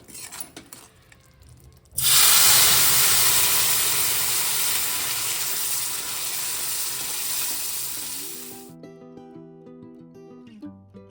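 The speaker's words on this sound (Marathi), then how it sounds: "आता आपण पायनॅपलचं सिरप केलंय ते टाकून घेऊ।" Pineapple syrup hits hot ghee-roasted semolina in a pan for pineapple sheera, bursting into a loud, bright hissing sizzle that slowly fades over several seconds, then cuts off into background music.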